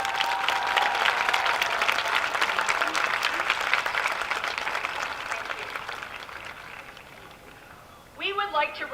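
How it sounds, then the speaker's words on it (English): Applause at a high school graduation commencement, a broad crowd clapping that swells then fades over several seconds before a speaker's voice returns. "Let's give them a round of applause."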